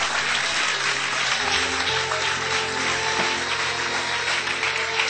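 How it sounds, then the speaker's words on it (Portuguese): Church congregation applauding, a steady dense wash of clapping throughout, loud and continuous, with a faint low sustained tone beneath. "Aplaude o Senhor"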